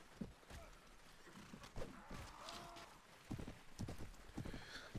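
Horses galloping in a battle in Warband Viking Conquest, a medieval video game, with a dense, uneven clatter of hooves, louder bursts near the start and end, and scattered thuds.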